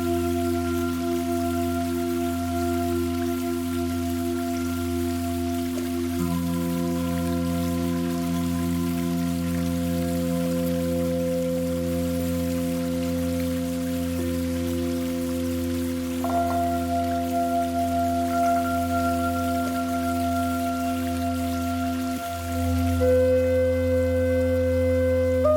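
Steady flowing water sample layered into an Ableton Live sound healing track, running continuously beneath sustained tonal drones and a granular effect, with the texture shifting near the end.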